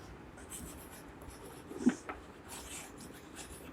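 Writing on a board during a classroom maths lesson on adding fractions: a faint, continuous scratchy rubbing of the writing tool on the surface, with a brief tap partway through and no one speaking.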